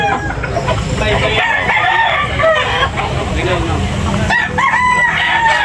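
Roosters crow repeatedly at a busy cockfighting market in Tabunok, Talisay, Cebu, loud and close, with clucking and a dense crowd of voices around them.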